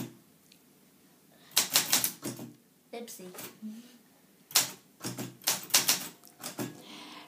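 Keys clack on a manual typewriter in bursts of quick strikes with short pauses, close and crisp, while someone speaks briefly in between.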